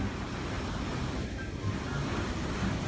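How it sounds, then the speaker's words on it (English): Ocean waves surging against a pool's edge where a woman stands, a steady, loud broadband wash of surf with wind noise, continuous and close throughout, no speech. "Waves violently hit someone standing by the pool's edge"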